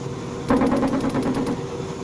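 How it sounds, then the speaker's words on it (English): Strider machine gun firing in a video game: a rapid burst of about a dozen evenly spaced, loud shots lasting roughly a second over a steady engine hum. "it's a Strider, he's firing"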